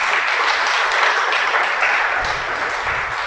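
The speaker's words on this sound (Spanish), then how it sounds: "Dale un aplauso al Creador," A church congregation claps together in a dense, steady wash of applause that stays loud and close throughout, with a slight easing toward the end.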